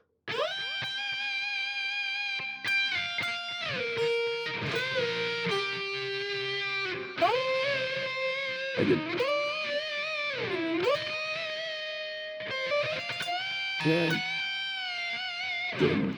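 A heavily distorted electric guitar plays a sustained pre-chorus phrase, with slides between held notes, bending down and back up, solo and fairly loud.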